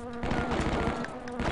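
A buzzing insect drones loudly in the 1997 video game Shadow Warrior Classic, a close, wavering, continuous buzz that rises and falls slightly in pitch.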